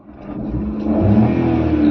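A Maruti Suzuki Alto 800 engine hums steadily, then rises in pitch and volume as it revs up, heard from close by with no talking.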